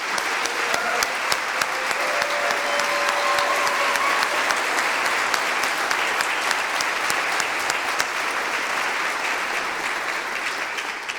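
Applause for storytellers at a gathering, a sustained wash of clapping from a large audience that holds steady and loud for about eleven seconds, with no one speaking over it.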